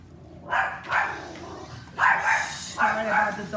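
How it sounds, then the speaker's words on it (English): A dog barks nearby in a series of three to four separate bursts, some doubled, loud against a quiet room background. "Sorry about the dog."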